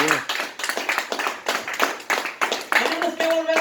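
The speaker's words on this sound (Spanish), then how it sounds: "Den un aplauso al Señor." Church congregation clapping in praise during a Spanish-language service, a steady run of handclaps with a voice speaking over it throughout.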